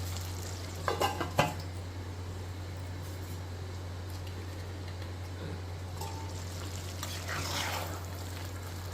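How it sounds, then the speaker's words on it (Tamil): Chicken biryani is stirred up from the bottom of a pot, a few brief scraping strokes near the start and again toward the end over a steady low hum, with no talking. "நல்லா அடியிலேருந்து ஒரு தடவை கிண்டி விட்டுடலாம்."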